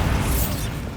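In the Hogwarts Legacy video game, the Bombarda spell sets off a loud, continuous blast that fills the short moment with dense rumbling noise.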